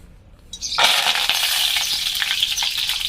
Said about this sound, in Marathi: तर हे बघा मौरी जिरं आणि कढीपत्ता मी याच्यामध्ये टाकून घेते